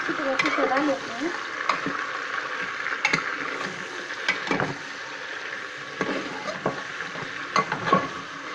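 Spices frying in hot oil are stirred in a pan, steady sizzle under repeated scraping strokes of a spoon close up, with occasional sharper clinks.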